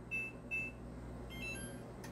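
A kitchen timer gives two short, sharp beeps near the start and another faint pair later, over quiet low hum in a kitchen where jam jars are heating.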